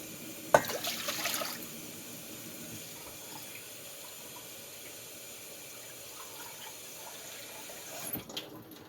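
Tap water runs and splashes as glasses are filled for a pot of salted water to boil ravioli, with a sharp clink near the start, a steady pour, and another clatter near the end.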